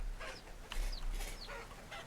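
A farmyard rooster in the survival game Vintage Story lets out a series of short, bright clucks and squawks, four or five quick bursts at moderate loudness over a low steady background hum.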